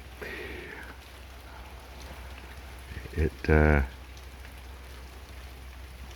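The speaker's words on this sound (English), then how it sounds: "It is a windy and very rainy morning" Steady rain patters in the background on a windy morning while a voice speaks briefly under a pavilion, with a short louder burst near the end.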